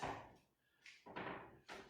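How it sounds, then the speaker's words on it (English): Door noises during an indoor TRX workout, a few soft thuds and creaks spread over under two seconds, faint and without talk. "You can hear the door though."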